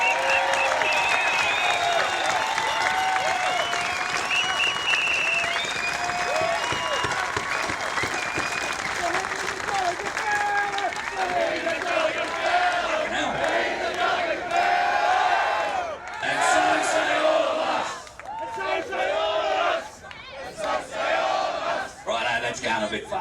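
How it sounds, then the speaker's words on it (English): A rally crowd breaks into a long round of applause mixed with cheers and shouts. It is loud and sustained, then thins into scattered clapping and calls toward the end. "if you'd all just join with me in a round of applause to acknowledge Simo and the work he's done"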